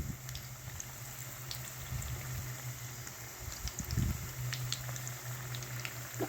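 Cauliflower and soya chunk pakodi dropped into hot oil give off a steady bubbling sizzle with a low hum underneath. A denser burst of frying comes near the end.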